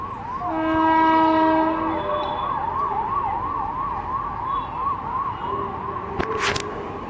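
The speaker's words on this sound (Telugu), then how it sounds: "బస్ స్టాండ్కి అవతల మెయిన్ రోడ్లో అది ట్రైన్ వెళ్తుంది చూడండి." A loud two-tone siren-like train horn wails steadily over rumbling rail noise, with a sharp hiss near the end as the train passes beyond a bus stand by a main road.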